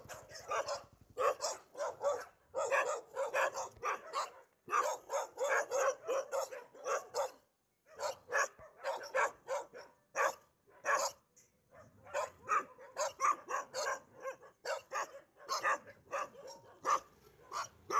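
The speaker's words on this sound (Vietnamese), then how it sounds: "ở đây nhiều chó quá, nó hơi ồn một xíu" Several dogs bark near a seaside hillside property at Nha Trang, Vietnam, in dense, overlapping bursts that continue almost without pause, loud and close with short gaps between volleys.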